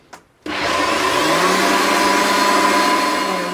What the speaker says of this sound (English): Now remember to put the lid on, and I'm going to blitz this down.